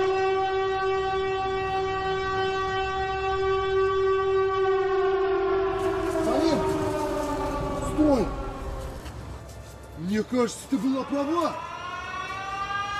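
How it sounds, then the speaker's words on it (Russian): A Siren Head creature's wailing siren drones loudly and continuously, its pitch sliding and bending in the second half, while someone speaks over it. "Это звук сиреноголового!"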